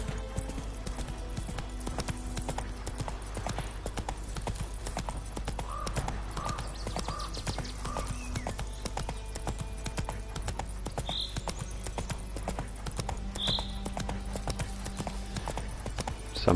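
Hooves clip-clop steadily as a horse is ridden in The Witcher 3: Wild Hunt, a close, even trotting rhythm that continues throughout over quiet game ambience.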